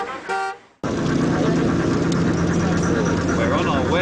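A car horn toots briefly from a taxi at a bus stop in Baotou, China, then loud traffic and engine noise take over with a steady rumble and scattered honks.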